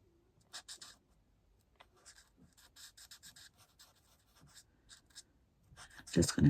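A Stampin' Blend alcohol marker colouring in a pumpkin on a papercraft Trick Or Treat box, with soft close scratchy strokes in short irregular bursts, a voice talking quietly between them.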